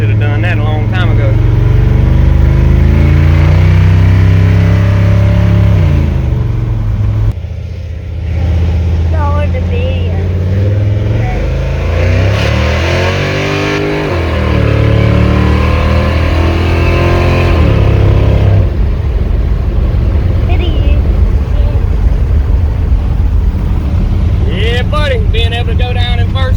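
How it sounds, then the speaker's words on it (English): Chevrolet C10 pickup truck accelerating hard with a loud, rising engine roar that drops briefly at each gear shift and climbs again, heard up close from inside the cab with people talking over it throughout. "Being able to go down in first gear and take off makes a hell of a difference."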